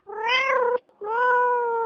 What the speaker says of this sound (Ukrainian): Засиділося у центрі тимчасової перетримки безпритульних котів, і це триколірне кошеня.